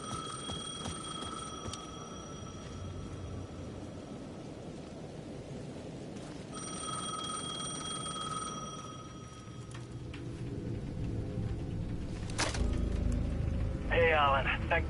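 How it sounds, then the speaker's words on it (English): A payphone at the edge of a plaza in the video game Alan Wake 2 rings in two steady bursts of a few seconds each over a low ambient background. "The payphone at the edge of the plaza was ringing again."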